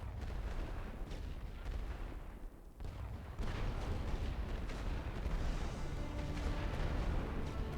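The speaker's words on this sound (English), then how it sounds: "Préparez un barrage total. Commencez le barrage." An artillery barrage in the World War I video game The Great War: Western Front rumbles as a continuous, dense roll of distant booms and explosions that keeps going steadily throughout.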